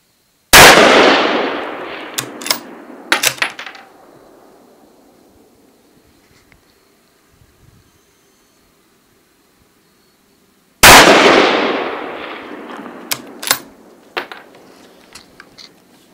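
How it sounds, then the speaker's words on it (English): Two loud, sharp rifle shots at a long-range target about ten seconds apart, each a sudden crack followed by a rolling echo and faint clicks, with no talk. "Which target are you shooting at, Trey?"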